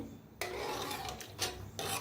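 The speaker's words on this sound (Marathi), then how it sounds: "हलवून घेऊया" Rough scraping and rubbing strokes of a spatula stirring dill greens in a pan, a few close, distinct rasping passes at moderate volume.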